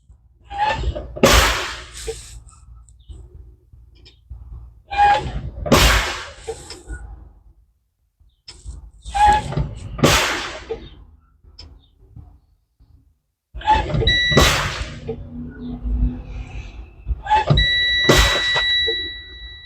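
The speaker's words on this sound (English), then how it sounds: "I'll fan my brakes" Repeated loud bursts of hissing air as truck air brakes are fanned, about five releases separated by pauses, with a steady electronic low-air warning buzzer sounding near the end.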